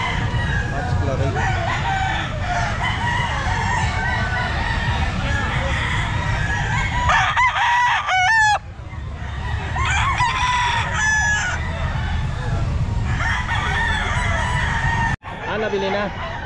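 Roosters crow and hens cluck at a busy outdoor pet market, several loud nearby crows rising over constant crowd chatter and farmyard clucking, with people talking throughout.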